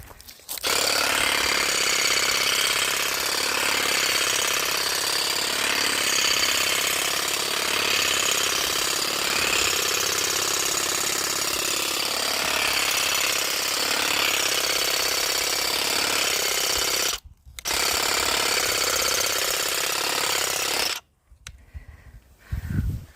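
A string trimmer fitted with a new attachment runs with a loud, steady, rattling engine roar for about seventeen seconds, cuts out briefly, restarts, then drops away near the end.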